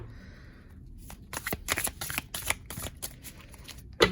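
Tarot cards being shuffled by hand, a close, crisp riffle of flicking cards in quick bursts, ending in a sharp tap as the deck is squared.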